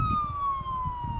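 Ambulance siren sounds continuously outdoors, a steady, slowly falling wail over low rumbling background noise, fairly loud throughout.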